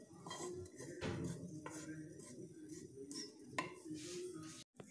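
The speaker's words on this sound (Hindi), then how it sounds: "दूसरी प्लेट में निकालेंगे हम" Roasted gram flour being spooned from a pan onto another plate, with soft close clinks and scrapes of metal cutlery against dishes, quiet and intermittent.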